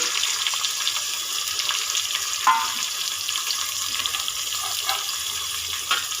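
Steady running water pours and splashes as cooked rice is strained in a home kitchen, continuous and close, with a few small clinks.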